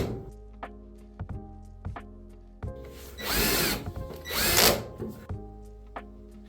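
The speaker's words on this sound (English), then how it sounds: "Tighten the top 3 faceplate screws." Power drill whirring in two short, loud bursts as it drives faceplate screws on a Samsung dryer, with soft knocks and clicks of handling before and after.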